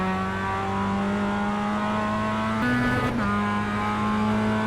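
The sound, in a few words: Mazda MX-5 race car engine in video game iRacing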